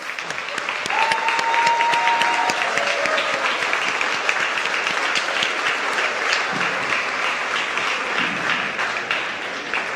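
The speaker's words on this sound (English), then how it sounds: "Certainly, another round of applause." Loud, sustained applause fills the hall at the Pride of Barbados Awards Ceremony for unsung heroes, with a few brief whistle-like tones rising over the clapping early on.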